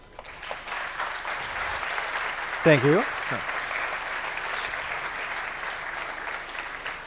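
Conference audience gives a round of applause after a talk on service mesh, steady clapping from a crowd throughout, with a short spoken thanks partway through.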